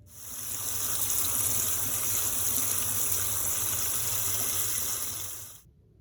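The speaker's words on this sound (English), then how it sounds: "So our cashews have soaked overnight, so now we drain them and we give them a little rinse." Soaked cashews being drained and rinsed under running water, a steady close rushing flow that holds at an even level for several seconds before cutting off abruptly.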